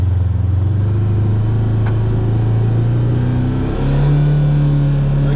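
A Polaris RZR XP engine hums steadily in low gear at walking pace with four-wheel drive and the differential locked, a near, constant drone that steps up in pitch partway through.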